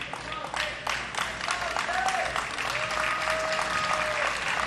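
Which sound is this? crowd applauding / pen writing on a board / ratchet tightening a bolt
crowd applauding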